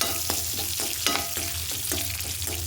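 Hot oil tempering for a dried prawn curry sizzles steadily up close, with a run of rhythmic stirring scrapes roughly every quarter second and no talking.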